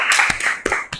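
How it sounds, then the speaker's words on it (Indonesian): An audience claps after a classroom presentation, a brief burst of a few sharp hand claps within about a second. "Oke, tepuk tangan lagi, tepuk tangan."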